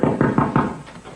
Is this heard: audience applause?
no